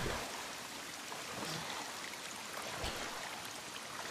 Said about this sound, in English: Looks like we're swimming.